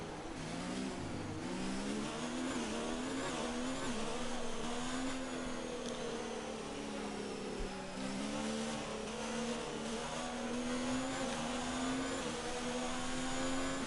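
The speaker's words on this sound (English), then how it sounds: "go through all the gears if you can" A Ferrari Formula 1 car engine in the F1 2019 video game at the Italian Grand Prix screams loudly and continuously, its pitch climbing and dropping repeatedly as it revs through the gears.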